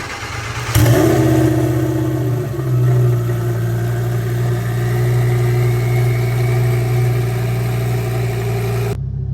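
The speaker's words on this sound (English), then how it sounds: "But let's go ahead and get a cold start." A Lamborghini engine cold-starts with a sharp burst and flare of revs, then drops into a loud, steady high idle that holds close up with no talking over it.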